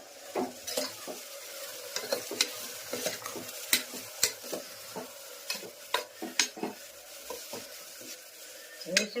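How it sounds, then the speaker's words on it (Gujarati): Guar beans (cluster beans) are tempered with chutney, turmeric, coriander, cumin and salt and stir-fried in a pan: a steady sizzle under repeated scraping and clinking spoon strokes against the metal, close and irregular. "મસ્ત મજાનું ગુવારનું શાક વઘારાઈ જશે."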